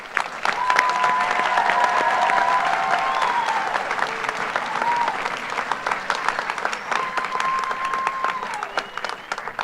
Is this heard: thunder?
no